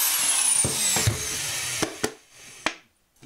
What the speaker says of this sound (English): make a little divot in the center of these rivets and then drill it out